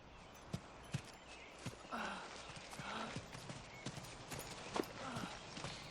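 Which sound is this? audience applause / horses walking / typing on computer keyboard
horses walking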